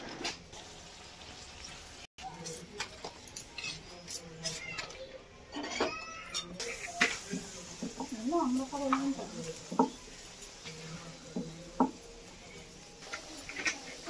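Palm-flavoured luchi flatbreads fry in hot oil, a soft steady sizzle with occasional crackles and stirring clicks throughout, while a voice talks over it.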